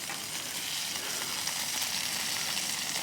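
Jack Daniels whiskey strip steak searing on a Blackstone griddle, a steady, loud, even sizzle with no breaks and no voices.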